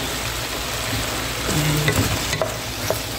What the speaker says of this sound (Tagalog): Hayaan natin siyang kumulo.